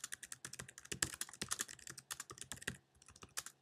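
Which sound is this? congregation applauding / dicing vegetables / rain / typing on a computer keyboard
typing on a computer keyboard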